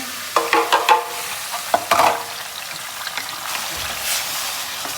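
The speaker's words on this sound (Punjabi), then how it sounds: "ਹੁਣ ਆਪਾਂ ਨਾ ਤੇਲ ਗਰਮ ਹੋ ਗਿਆ ਹੈ ਹੁਣ ਆਪਾਂ ਨਾ ਤੜਕਾ ਲਾਉਣਾ ਸ਼ੁਰੂ ਕਰਦੇ ਆਂ" Onion, garlic, green chili and ginger hit hot oil for a tadka, giving a few loud bursts of sizzling and stirring clatter in the first two seconds, then a softer ongoing fry.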